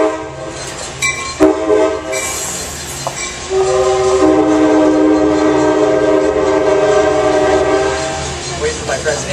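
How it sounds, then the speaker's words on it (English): An Amtrak train rolls past close by, its horn blaring in long sustained tones over a steady roar and rumble of the cars that stays loud through the whole pass. "Wait for my friends at Amtrak to go by."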